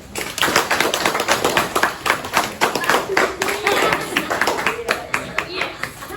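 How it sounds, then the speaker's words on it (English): A small audience at a demo day claps in a loose, loud patter of individual hands, close by and uneven, with some talk heard underneath. "Give him a round of applause."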